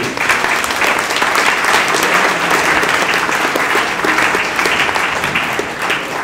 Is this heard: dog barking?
no